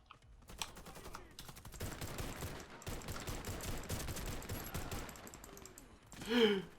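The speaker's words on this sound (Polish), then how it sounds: "nie sądziłem, że to będzie taki ostrzał" Dense rapid gunfire in the video game Warface crackles for several seconds after a brief quiet start, ending with a short louder burst; fairly faint overall.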